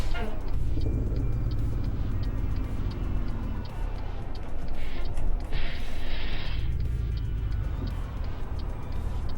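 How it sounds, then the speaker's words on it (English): Truck engine rolling in American Truck Simulator, a steady low rumble with ticking, running throughout under someone talking. "I like to keep the truck rolling as much as possible"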